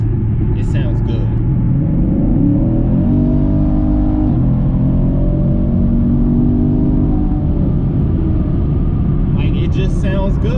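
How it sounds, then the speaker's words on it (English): Deep exhaust note from a 2016 Chevrolet Camaro SS V8 fitted with an aftermarket Flowmaster American Thunder exhaust, revved at about half throttle, a loud steady rumble rising and falling in pitch through the middle, with faint talk at the start. "I like the deep tone of the exhaust"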